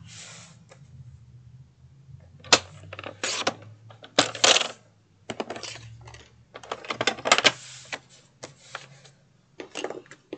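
A piece of chipboard being cut to 3 1/8 by 10 1/2 inches for a DIY sticky-note desktop holder: a run of sharp, close crunching snaps and clicks in irregular bursts over a steady low hum.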